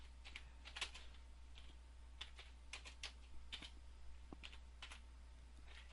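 Typing on a computer keyboard while entering text in PowerPoint 2003: irregular, fairly faint key clicks close up, with no talk over them.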